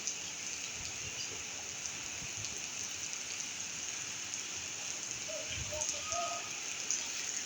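Steady, soft rain patters continuously with a faint hiss, no voices, an even wash of sound throughout.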